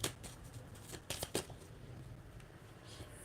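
Tarot cards being shuffled by hand, a quiet papery riffle with a few sharper flicks and snaps in the middle, close and soft, with no talking.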